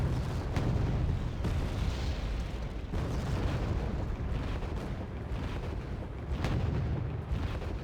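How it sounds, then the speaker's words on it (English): Artillery fire in the video game Wargame Red Dragon, several heavy booming blasts at irregular intervals over a continuous rumbling battle backdrop, fairly loud, no voices. "Artillery's going to do a pretty good job to suppressing the tanks."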